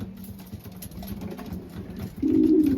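Racing pigeons, mostly hens, arriving in the rain: cooing and fluttering nearby, with a soft steady murmur of birds that swells louder toward the end.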